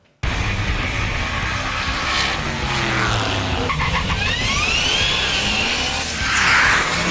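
A junkyard Plymouth Barracuda runs at an eighth-mile drag strip, its engine roaring loud and steady, rising in pitch as it accelerates, with a swell of tire noise near the end.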